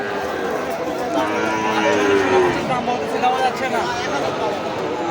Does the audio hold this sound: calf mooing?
yes